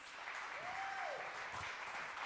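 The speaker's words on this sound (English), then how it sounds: "Can we give him a round of applause, please?" Steady, dense audience applause fills a hall as a guest is welcomed to the stage at a Kansas City Oasis talk, with a brief tonal whistle-like sweep riding over the even wash of clapping.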